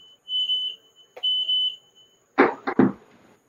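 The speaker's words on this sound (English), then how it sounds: "And there's the timer." A kitchen timer sounds in a cooking setting while Nashville hot chicken and waffles are prepared: two steady beeps, then three loud, sharp clattering knocks close by at the end.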